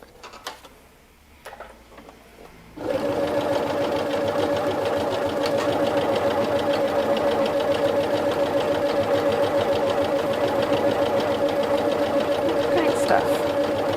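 A Pfaff Quilt Ambition 630 sewing machine starts stitching after a moment of quiet handling, then runs steadily with a fast, even mechanical hum and needle rhythm, close and loud for the rest of the span.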